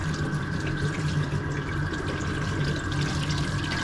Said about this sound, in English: Let's wash clean this filter out real quick.